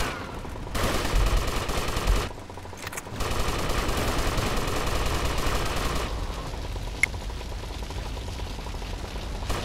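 Sustained automatic gunfire in GTA Vice City, an M4 rifle firing long rapid bursts with a brief pause, loud and close, with a sharp crack near the end.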